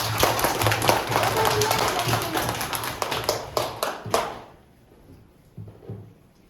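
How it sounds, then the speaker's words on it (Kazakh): A class of schoolchildren claps their hands together in a classroom, a dense burst of applause lasting about four seconds before breaking into a few scattered late claps. "Қане қол шапалақтап қояйық"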